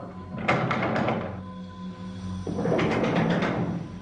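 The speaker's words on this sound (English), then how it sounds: "Something just knocked on the door." Hollow knocks on a door in a dim building: a quick cluster of three or four raps, a pause with low background hum, then a second burst of several knocks, fairly close and moderately loud, with no talking.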